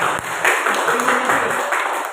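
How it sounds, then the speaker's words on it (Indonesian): Classroom audience applause: a steady patter of many hands clapping, moderately loud and sustained for a couple of seconds. "Oke, tepuk tangan."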